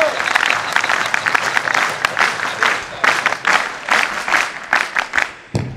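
Audience clapping at a Hindustan Scouts & Guides gathering at Patanjali Yogpeeth, loud and close, coming in uneven rhythmic bursts of claps that swell and fade for several seconds.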